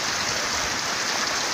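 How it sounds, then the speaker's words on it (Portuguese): Heavy rain pouring down on a stormy day in rural northern Minas Gerais, a dense continuous hiss of falling water with runoff, steady and fairly loud, no voices. "E tá caindo água."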